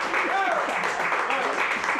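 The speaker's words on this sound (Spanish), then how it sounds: "Aplaudan pues entonces." Steady audience applause fills the room while voices shout and talk over the clapping.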